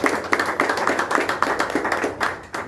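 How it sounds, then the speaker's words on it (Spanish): A church congregation claps hands together in a quick, steady rhythm, the individual claps sounding as crisp repeated beats throughout a short stretch. "Démosle palmas al Señor, por favor."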